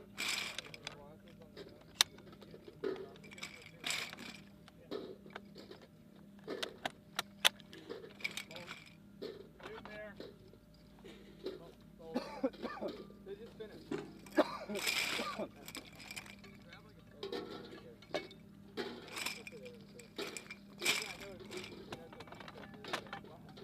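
Metallic clanks and clicks from handling an M2A1 .50 cal machine gun during a barrel change, scattered irregularly under ongoing talk.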